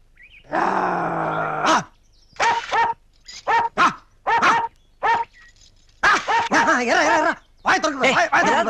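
A dog in a comedy film scene gives a run of close barks, groans and whimpers. The calls come in short separate bursts, a longer drawn-out cry first, then quick clusters of barks with brief silences between.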